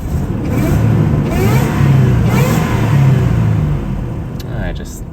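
Supercharged Nissan Frontier engine rumbling loud and close, rising and falling through repeated revs with a steady low drone underneath for several seconds.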